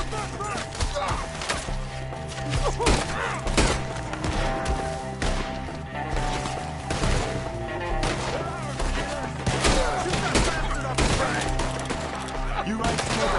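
Gunfight in the video game Red Dead Redemption 2, with dense, continuous bursts of gunfire and impacts crackling throughout, loud and busy, with shouted voices mixed in.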